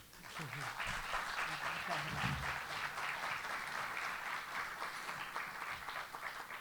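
Sustained audience applause welcoming a speaker to a lecture on leadership, a steady wash of many hands clapping at moderate level for several seconds with some voices murmuring underneath.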